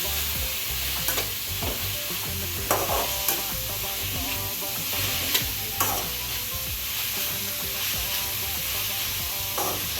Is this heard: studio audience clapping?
no